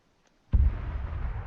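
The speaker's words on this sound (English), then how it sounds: "I heard another explosion. Kamish cooking off." In the Arma 3 video game, a Kamysh armoured vehicle cooks off: after near silence, a single sudden deep explosion booms, then its rumble lingers and trails off at a distance.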